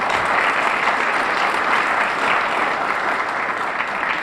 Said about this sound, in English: Applause would be great here.